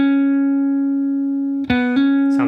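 Single sustained electric guitar note on the fourth string, ringing steadily and fairly loud, followed by a couple of quick picked notes near the end.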